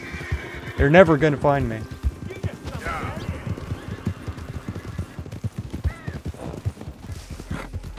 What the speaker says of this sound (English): Alright, we're back with a Morgan stallion.